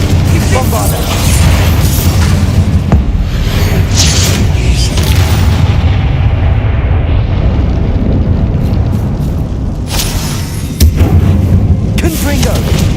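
Bombarda and Confringo spells burst in Hogwarts Legacy combat, producing repeated booming blasts and rumbling impacts over continuous battle noise, loud throughout, with spell shouts mixed in.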